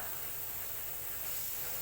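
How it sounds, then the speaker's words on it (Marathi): Peanuts roast on a hot tava griddle with a faint, steady hiss and soft sizzle that runs without a break. "तव्यात आता भाजून घेते खरपूस होईपर्यंत"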